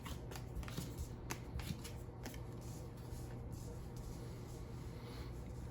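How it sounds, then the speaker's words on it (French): Biomos board game biome cards being shuffled by hand at a table, a steady papery riffling with soft flicks running throughout, quiet and close. "on va prendre les cartes biomes de base, on les mélange"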